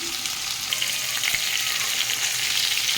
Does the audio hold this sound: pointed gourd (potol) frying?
yes